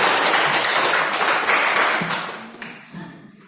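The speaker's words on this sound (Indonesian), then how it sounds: "Tuh berikan aplaus dulu." Classroom applause from a group of students, dense close clapping that starts strong and gradually thins out and fades over a few seconds.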